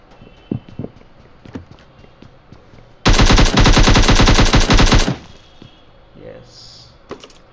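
An automatic weapon fires a loud, rapid burst lasting about two seconds in PUBG on the desert Miramar map, set between quieter clicks and faint game noises.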